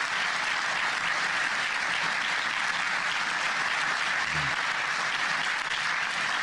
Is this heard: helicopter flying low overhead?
no